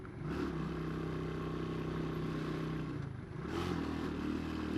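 Motorcycle climbing a hill in first gear, its engine droning loud and steady with a low harmonic hum, briefly easing around three seconds before pulling hard again.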